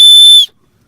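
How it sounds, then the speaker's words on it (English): A survival signaling multi-tool's whistle gives one shrill, piercing blast, loud and close, that stops abruptly after about half a second, leaving silence. "It has a whistle on one side."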